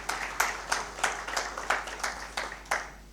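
Sparse clapping from a small audience acknowledging sponsors at a Victoria Falls winter school event, about nine distinct claps in an irregular rhythm, moderately distant and fairly quiet with no talking.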